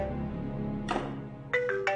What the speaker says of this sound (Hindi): शहजाद का फोन।